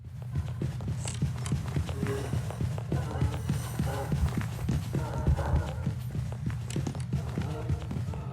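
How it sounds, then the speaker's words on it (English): Rapid, steady thudding footsteps of a fast ghost hunting in a video game, with a low rumbling hum beneath, a fast running rhythm that continues throughout. "So this is what it sounds like when they are super fast."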